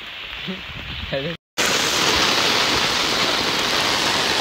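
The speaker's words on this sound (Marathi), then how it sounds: "मरणाचे पाऊस असता मरणाचे खूप पाऊस पडता" Heavy rain pours down in a dense, steady roar after a brief voice at the start, loud and close, with a short dropout midway.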